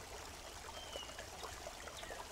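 A gentle stream flows over rocks, a soft continuous trickle and babble, quiet and even with no splashing or voices.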